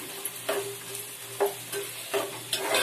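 Onions fry in a pan with a steady sizzle while a spoon scrapes and stirs in several distinct bursts, close-up, for a paneer butter peas gravy, with no speech.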